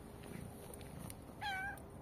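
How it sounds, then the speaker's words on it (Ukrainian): A cat gives one short, fairly faint meow in a quiet indoor room, with steady low background hiss and no talking. "Який гарний котик."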